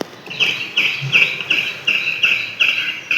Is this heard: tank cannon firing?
no